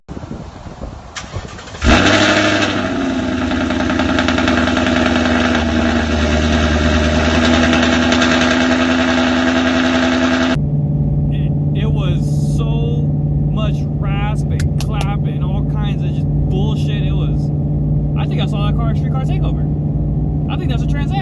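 Ford Mustang S550 cold start through its exhaust: a sharp crank and catch, then a loud high-revving roar that settles into a deeper steady idle while someone talks over it.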